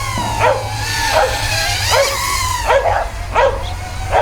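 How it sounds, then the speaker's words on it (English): A dog barks repeatedly in short, yelping bursts at a steady rhythm, fairly close and loud, with a faint low hum underneath. "Man, dogs barking constantly."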